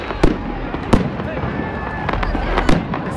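New Year's Eve fireworks bursting over Ploiești, several sharp booms cracking out at irregular intervals over a continuous rumble of distant explosions, with excited voices talking and shouting nearby.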